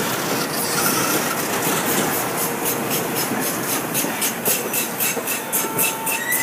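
A DART light rail train rolls past steadily at Dallas Union Station with a rushing hum and rhythmic clicking of wheels over rail joints, continuous and fairly close.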